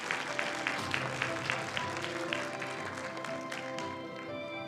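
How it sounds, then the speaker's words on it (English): Audience applause after a Tang Prize laureate lecture in biopharmaceutical science, a soft, even wash of clapping in a large hall with faint crowd murmur beneath, sustained throughout. "please join me in giving another warm round of applause to Professor Host."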